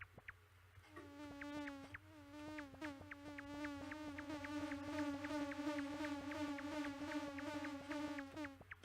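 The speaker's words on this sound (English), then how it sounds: "that buzzing noise gets very annoying after a while" A fly's steady buzzing drone from the Yume Nikki video game, circling a character's hair, sets in after a short pause and keeps on with a rhythmic pulsing flutter, fairly soft and alone.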